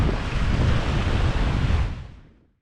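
Ocean waves wash in at the Murray River mouth at Goolwa, South Australia, as a dense, steady roar of surf mixed with wind buffeting the microphone, fading out over the last moments.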